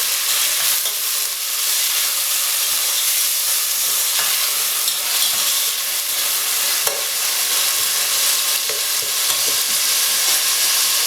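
Vegetables spluttering and sizzling in hot oil in a pan for vegetable pilau with whole garam masala, a dense continuous crackle and hiss, loud and close throughout, with no talking.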